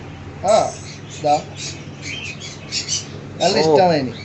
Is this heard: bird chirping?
yes